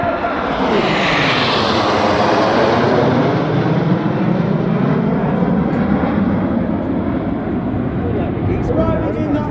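The Red Arrows jets of the Royal Air Force arrive in a nine-ship Diamond Nine formation at an air show, with a loud, continuous roaring jet noise overhead. A commentator talks over the roar.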